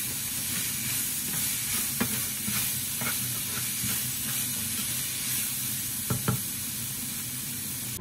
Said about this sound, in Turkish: Biberlerimiz yağda güzelce kızardı.